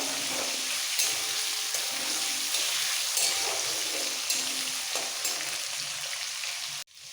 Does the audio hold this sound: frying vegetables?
yes